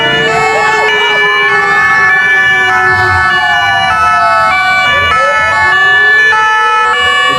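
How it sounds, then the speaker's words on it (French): Wailing police sirens from an escort convoy bringing the Cameroon national football team bus into Stade Ahmadou Ahidjo, several overlapping sweeping tones loud and continuous over crowd and traffic noise. "Vous entendez les sirènes."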